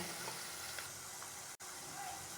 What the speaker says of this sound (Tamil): இப்போ நல்லா வெங்காயம் பொரிஞ்சிச்சு